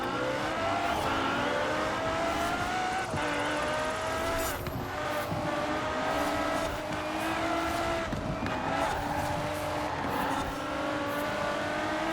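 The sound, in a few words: Bugatti Veyron Super Sport racing in a video game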